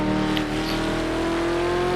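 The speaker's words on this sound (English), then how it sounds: "watch this beautiful car going around this track from the outside view here" A Ford Falcon V8 Supercar races around the Nurburgring in Project CARS, its V8 engine droning loud and steady at high revs with a slowly rising pitch, heard alone.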